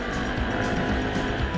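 An FKM Venture 150 motorcycle accelerates hard, its engine giving a loud, close, steady roar with rising harmonic tones across the short burst.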